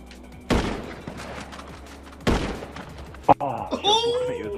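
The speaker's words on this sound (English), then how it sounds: "I was shooting at you" Sharp gunshots in a GTA 5 rooftop deathmatch, two loud isolated bursts separated by a pause, followed by a short crack, with people chatting over game sounds.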